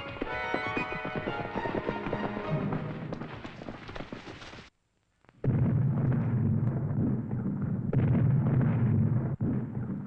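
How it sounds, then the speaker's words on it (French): Distant cannon fire that could be mistaken for thunder rolls as deep, rumbling booms, a long heavy roar, a brief silence, then more sustained low rumbling. "C'est le canon."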